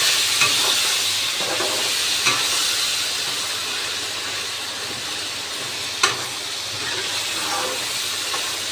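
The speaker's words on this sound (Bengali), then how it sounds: "দেখি হালকা একটু নাড়া দিই, কারণ নাড়া না দিলে আবার লেগে যেতে পারে কড়ার থেকে" Homemade tomato chutney stirred in a pan, an even hissing sizzle throughout with a few faint scrapes and one sharp clack partway through.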